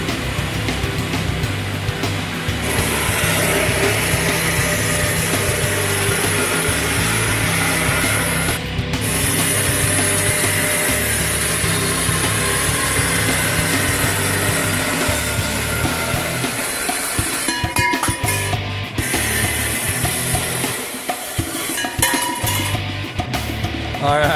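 An Ellis saw cutts 20-foot metal pipe into three-foot lengths in a metal furniture shop, a steady grinding and rasping buzz that runs without a break, loud and close, with a few brief dips.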